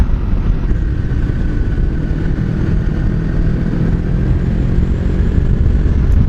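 A motorcycle rides along a road in the UK, giving a steady, loud engine drone mixed with rushing wind noise that stays constant throughout, with no talking.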